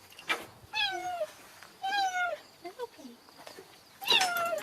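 A cheetah gives several soft, cat-like mewing chirps rather than a roar, rising and falling calls spaced about a second apart, fairly faint against a quiet background.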